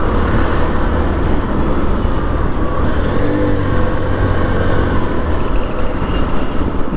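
Engine of a second-hand motorcycle on the move, a loud, steady, close drone with road and wind noise and slight shifts in pitch as it rolls straight along.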